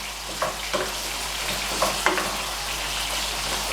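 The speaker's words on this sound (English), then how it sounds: "just mix this all together for at least like 5 minutes" Food mixture stirred in a pan, a steady sizzling bed broken by a few light scraping knocks of the utensil, close and alone.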